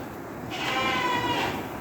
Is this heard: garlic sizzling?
no